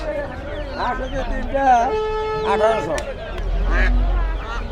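Ducks quack intermittently amid the chatter and bargaining of a busy poultry market in Kalampur; the calls are near but partly buried under several people talking.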